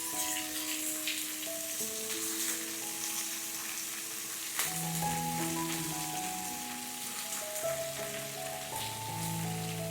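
Marinated prawns searing in a hot pan, a continuous crackling sizzle with dense spattering noise throughout, with tonal music playing underneath.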